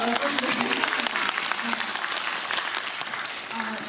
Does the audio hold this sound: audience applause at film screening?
yes